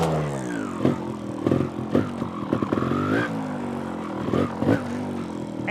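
A motorcycle ridden over obstacles without using the clutch, its engine revving up and dropping repeatedly in close, loud bursts, with clattering knocks as the bike works over the terrain.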